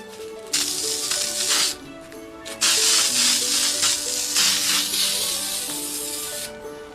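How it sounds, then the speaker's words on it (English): An aerosol high gloss glaze spray hisses in long bursts over a glittered Christmas ornament, loud and close, pausing briefly between sprays, with faint music underneath. "just seal it with this glaze high gloss spray"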